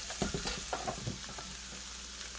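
Rice being added to a hot pan for chicken fried rice gives a soft, quiet sizzle with a few light scraping stir sounds near the start, then a steady low frying hiss.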